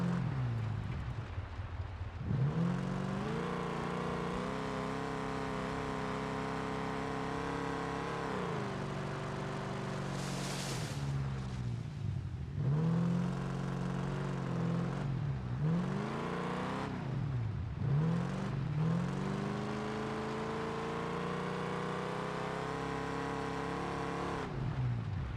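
A car engine in BeamNG with its exhaust removed revs loudly, climbing repeatedly through harsh buzzing rises and falling off between them, sounding close and raw with no talk.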